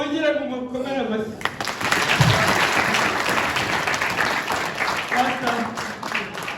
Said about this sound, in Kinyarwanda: Mwongere kumukomera amashyi.